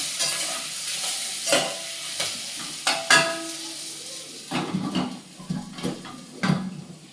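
Onions with a little salt fry in a pan for a vegetable biryani, giving a soft sizzle broken by repeated scraping and stirring strokes of a spoon against the pan, close and clear.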